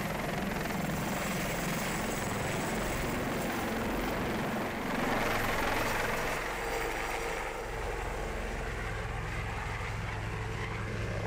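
A Lynx helicopter comes in to land on a rolling ship, its rotor and engine roar loud and continuous throughout with a steady beating throb, no talking.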